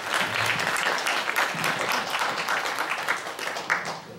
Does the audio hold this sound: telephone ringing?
no